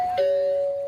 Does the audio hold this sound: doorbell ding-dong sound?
yes